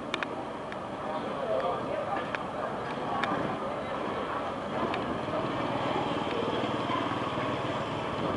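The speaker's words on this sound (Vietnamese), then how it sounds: "Động cơ 750 mã lực của Komatsu." A 750-horsepower Komatsu engine runs steadily aboard a 24 m Vietnamese fishing boat as it docks at port, giving a constant low rumbling drone with muffled voices faintly in the background.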